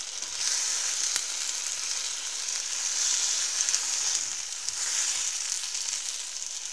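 Vegetarian sausages sizzling in a frying pan as they brown, a continuous hissing crackle that swells and eases, close and fairly loud, with no voices.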